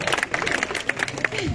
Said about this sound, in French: Quand on est content, on applaudit les gars.